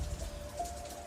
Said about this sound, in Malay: Berhenti je hujan ni sekarang